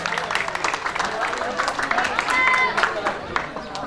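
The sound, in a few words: audience applauding at school event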